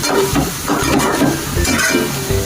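Chicken liver pieces coated with chili powder and masala are stirred in a hot pan, giving close, steady sizzling broken by repeated scraping stir strokes.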